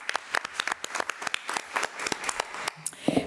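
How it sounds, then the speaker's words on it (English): A board meeting audience gives a round of applause for a staff member. The clapping is brisk and scattered, moderately near, and fades out after a few seconds. "let's give Mr. Morrison another round of applause"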